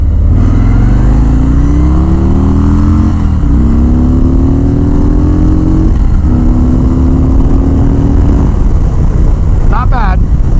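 A 2019 Harley-Davidson Road King Special motorcycle accelerates hard through several gears, its loud, close engine note rising in pitch with each pull and dropping at every shift, with a brief burst of wind or voice noise at the end.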